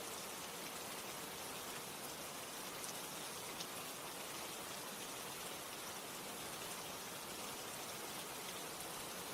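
Steady rain falling and pattering on surfaces, a dense, even hiss that holds at the same level throughout with no pauses and no voices.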